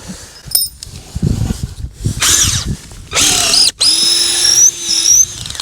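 Power drill boring through a mooring post in winter, working up from a 6 mm bit toward 8 mm; loud bursts of whining motor and grinding with short pauses between runs, one sustained high whine near the end, no talk.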